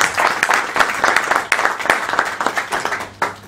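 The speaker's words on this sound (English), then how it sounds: "So we must clap for that, please." Audience applause at an indoor professional meeting, a dense run of many hands clapping with uneven bursts, steady for about three and a half seconds.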